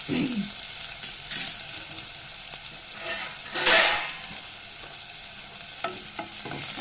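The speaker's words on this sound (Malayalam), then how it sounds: "അഞ്ചാറല്ലി ചെറിയുള്ളി ഞാൻ ചെറുതായിട്ട് കട്ട് ചെയ്തതാണ് ഇതിൽ ചേർത്ത് നമുക്കൊന്ന് വഴറ്റിയെടുക്കാം നമുക്കൊന്ന് മൂപ്പിച്ചെടുക്കാം" Chopped small onions sautéing in hot oil with roasted fennel seeds for a Kerala-style soya chunks curry: a steady close sizzle with scraping stirs and one brief louder hiss burst midway.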